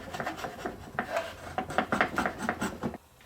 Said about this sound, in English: my router plane and just finish it off and just clean it up, get that bottom nice and flat